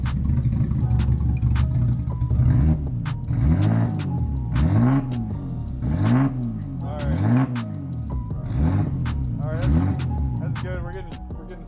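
A Toyota Supra MKIV engine fitted with aftermarket cams idles roughly and revs in repeated rising-and-falling bursts, loud and close, while a person speaks briefly over it.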